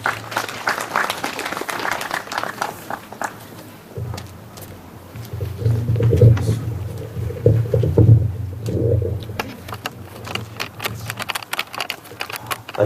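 A crowd applauds at a literary award ceremony, the 25th Pyeonwoon Literature Prize, with dense, steady clapping at the start. It fades to a low hum and murmur, then the clapping swells again near the end.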